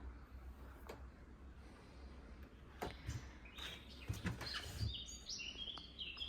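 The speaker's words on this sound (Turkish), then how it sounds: "Çok güzel bir kuş sesi var dışarıda." Outdoor birds chirp in short bright bursts, heard from a balcony, against a quiet background hum, with a few soft thumps in between.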